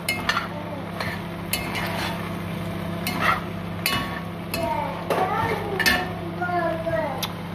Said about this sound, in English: Now we are going to fry them. Fry them with oil.